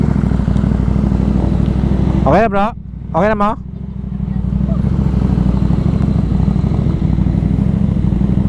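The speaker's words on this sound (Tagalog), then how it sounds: "Daming motor, oh. Dami." Motorcycles in a group ride along a highway, a steady close engine rumble running throughout, with brief voices cutting in midway.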